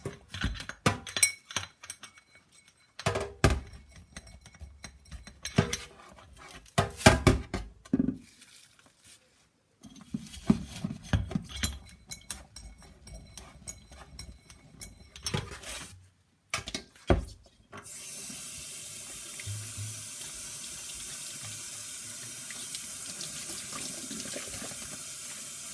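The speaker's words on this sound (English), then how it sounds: "It takes ages to rinse the bottles once they are washed, to get all the washing up out," Water splashes and runs in a sink while bottles are scrubbed with a bottle brush by hands in small black rubber gloves, with irregular sloshing and clinks, then a steady stream of tap water pours for rinsing.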